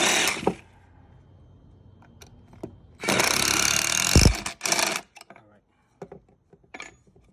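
A power drill drives pocket hole screws into wood: a sustained whirring burst follows a shorter one, amid scattered clanks and handling knocks, with a person talking nearby.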